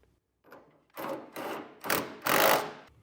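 A 3/4 inch socket wrench ratchets while snugging down Demco above-bed base rail hardware, a close run of four raspy clicking bursts that grow louder toward the end.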